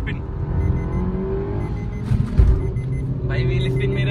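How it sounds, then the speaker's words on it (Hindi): Drag race between a Suzuki Ignis and a Mahindra Scorpio with the AC off, engines roaring steadily as wheels spin, a brief louder burst midway, with someone talking excitedly over it. "हो रहा भाई, व्हील स्पिन"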